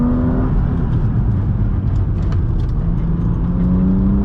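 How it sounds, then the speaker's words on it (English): A car pulls out of a canyon corner after a downshift, its engine droning loud and steady as it rises in pitch under throttle, with no talking. "I can see there's another corner coming up, downshifting, back on the gas."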